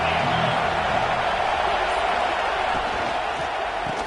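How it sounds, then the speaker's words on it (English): A dense college football stadium crowd roars steadily and loudly at a Florida Gators game, a continuous wash of cheering with no breaks. "This crowd ready to make its presence known."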